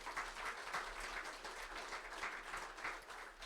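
Audience at an architecture awards presentation applauding a winner, a faint, distant, continuous wash of clapping from a sizeable crowd with no clear voices.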